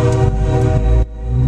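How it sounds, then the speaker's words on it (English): A train in Emporia rumbles close by with a loud, sustained low horn blast that cuts off sharply, leaving a fading rumble of the passing cars. "this train won't shut the hell up."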